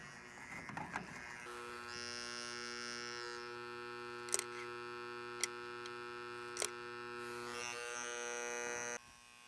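A work light beside a 1946 Willys Jeep CJ-2A engine gives off a loud, steady electrical buzz with a strong hum, interrupted by a few sharp ticks before it cuts off near the end.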